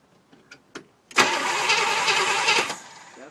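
A 1974 Pontiac Firebird Esprit with a 400 engine is cranked over after a few soft clicks, giving a loud, close, steady churning run of about one and a half seconds that then cuts off.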